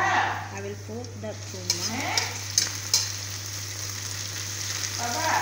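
Garlic and onion fry in a pan with a steady sizzle, and a few stirring scrapes punctuate it. A voice talks faintly in the background, and a constant low hum runs throughout.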